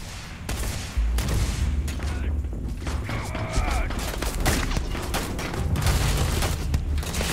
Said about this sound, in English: He's shooting me through the wall.